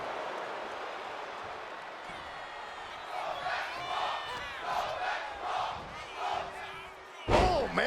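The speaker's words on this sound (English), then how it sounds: "The crowd is behind Charlotte, and she knows it." A virtual wrestling arena crowd in WWE 2K25 roars and cheers for Charlotte in waves, with commentary voices over it and a sharp impact-like burst near the end.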